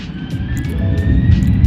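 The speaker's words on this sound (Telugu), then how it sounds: "ఫ్లైట్ సౌండ్ వస్తుంది, టేక్ ఆఫ్ అవుతుంది" An airplane takes off with a loud, steady roaring rumble that builds gradually, a thin high whine rising beneath it, and no talking.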